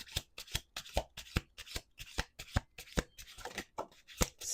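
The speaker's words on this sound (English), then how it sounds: "5 on the table, last shuffle." Tarot cards are shuffled by hand in a steady rhythm of sharp, close riffling slaps and soft rubbing between strokes, quiet but clear with no speech.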